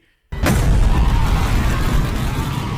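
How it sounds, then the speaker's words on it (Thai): Killer Queen's bomb detonation sound effect from the JoJo anime: a sudden loud blast erupts after a brief silence and then roars on as a sustained, rumbling wash of explosive noise. "เสียงกดระเบิดของคิลเลอร์ควีน"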